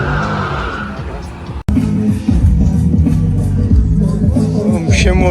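Cars, among them Audis, Mercedes, Volkswagens and Mustangs, roll into a car meet with loud, close engine rumble and a brief tire squeal, while people talk over the steady motor noise.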